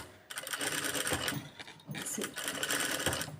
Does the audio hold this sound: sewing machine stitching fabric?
yes